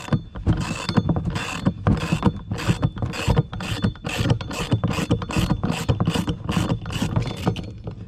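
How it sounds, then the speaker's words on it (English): A pulley puller is worked off a seized power steering pump on a BMW E36, giving a loud, close, repeated metallic ratcheting in regular bursts, roughly two per second. "Pulley pullers are great."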